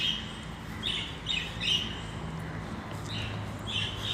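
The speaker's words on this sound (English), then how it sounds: "and then you have to say hello to some birds" Small birds chirp at a sports hub in Shah Alam, Malaysia, giving a few short, bright tweets in scattered bursts over steady outdoor background noise, moderately close with no talking.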